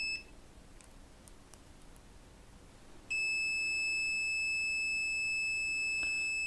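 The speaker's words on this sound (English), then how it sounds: "measure the sound level of the beep in the multimeter" Continuity-test beep from a Kaiweets KM201 smart multimeter: a steady, loud, high-pitched electronic tone that starts abruptly midway and holds unbroken to the end, after a quiet stretch of faint background hiss.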